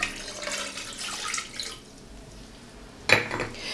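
Water poured for a cinnamon and clove sugar syrup, a steady splashing and trickling into a pot in a home kitchen, followed by a sharper clink near the end.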